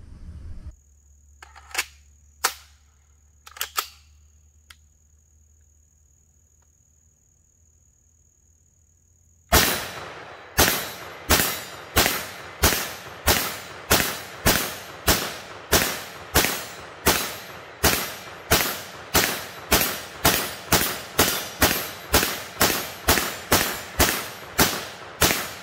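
Rapid FN P90 rifle shots fired at an outdoor range, a long run of about two dozen loud, sharp cracks in steady rhythm following a quiet stretch with a few faint clicks and a tonal whine.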